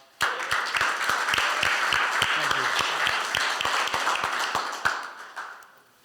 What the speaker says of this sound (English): Can we get this guy a round of applause?